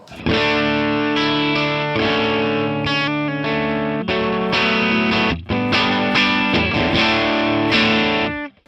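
Electric guitar through a Mesa Boogie Fillmore 50 clean channel capture on a Neural DSP Quad Cortex, edge-of-breakup tone, strummed chords ringing out loudly with slight grit, a brief pause midway, no voices.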